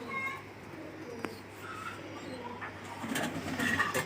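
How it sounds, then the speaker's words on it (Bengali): Fancy pigeons cooing in a loft in Kolkata: soft, low coos come and go against a steady, faint background hum, with a few brief sharper calls near the end. "দারুণ দারুণ কোয়ালিটির সব পায়রা আছে।"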